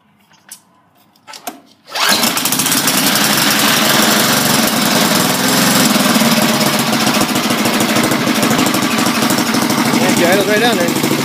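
A 1972 Sears Suburban 12 garden tractor engine starts after a few clicks and then runs loud and steady at full throttle, a rough continuous roar with knocking texture.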